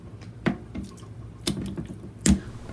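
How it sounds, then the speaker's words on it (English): A sharp knife cuts raw meat into thin slices for Cambodian hot pot, giving three crisp, separate chops against a board about a second apart, close and fairly quiet with no talking. "With a sharp knife, cut the meat"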